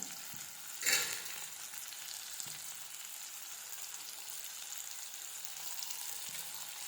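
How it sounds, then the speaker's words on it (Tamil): Sliced onions sauté with salt in a pan for an egg curry, a soft continuous sizzle at low volume with one brief louder crackle early on and faint stirring. "உப்பு போட்டுருக்கனால வெங்காயம் சீக்கிரமாக வதங்கி வந்துடும்"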